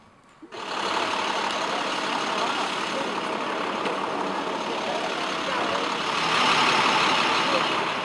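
A bus engine idles steadily and close by at a church tour stop, a continuous low rumble that swells slightly toward the end, with faint voices underneath.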